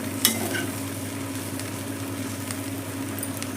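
A spoon stirs okra fry in a pan over a soft, steady sizzle, with a few scraping clinks near the start, close and moderately quiet.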